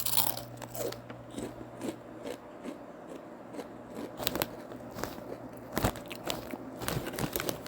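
Biting and chewing Flamin' Hot double crunch Ruffles potato chips: steady close crunching and crackling bites in an irregular rhythm, with no talking.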